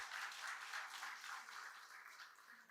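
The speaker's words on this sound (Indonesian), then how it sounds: "Tepuk tangan." An audience at the opening of a national event claps in a steady wash of applause that slowly thins toward the end, heard at a moderate distance.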